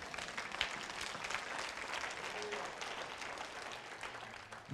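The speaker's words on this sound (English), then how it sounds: "give the Lord a clap offering" Church congregation applauding during a sermon, a steady wash of clapping from many hands that holds evenly throughout, with no voices over it.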